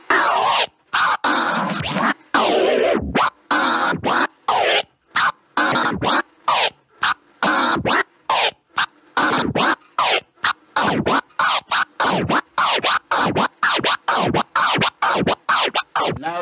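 A record is flare-scratched on a turntable in rapid bursts, the sound chopped on and off by a fader in a quick, rhythmic series of cuts.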